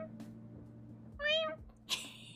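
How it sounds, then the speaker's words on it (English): A house cat gives one short, clear meow at mid-level, after a brief sharp click and before a faint breathy noise, over a steady low background hum. "My cat heard that and walked in to check what's going on."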